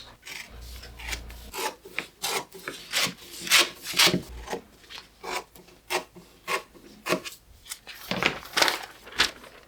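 Paper sewing pattern for a skirt being cut out with scissors, close rhythmic rasping snips and paper scrapes repeating steadily, each stroke loud and distinct, with no voice present.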